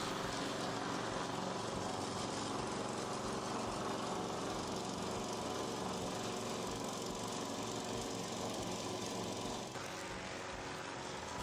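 A Grin HM46A lawn mower runs steadily and loudly up close, its engine drone dropping slightly in pitch near the end.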